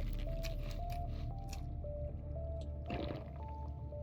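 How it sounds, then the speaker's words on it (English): Drinking water in the Subnautica video game: wet squishing and gulping sounds, close and fairly quiet, over a steady background game tone. "Drink some water."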